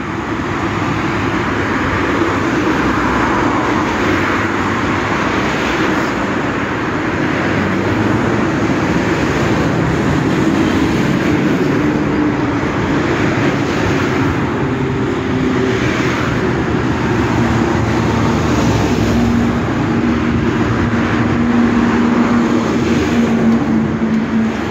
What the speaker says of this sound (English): here's the morning traffic